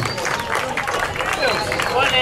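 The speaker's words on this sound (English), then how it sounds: "give Nicky a round of applause" Audience at a live show at the Botley Hill Farmhouse gives a volunteer named Nicky a round of applause, close, lively clapping mixed with crowd murmur and voices throughout.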